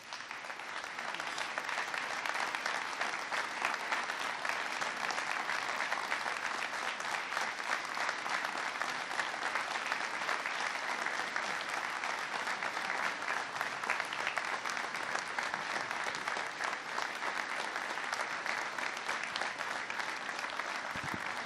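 Sustained audience applause at a presidential speech on the opioid crisis, steady and dense for over twenty seconds, a large crowd clapping evenly throughout with no talk over it.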